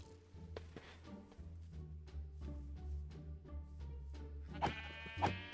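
Sheep bleating in Minecraft, several short, nasal bleats in an irregular rhythm, with two sharper, louder calls near the end over a low background rumble.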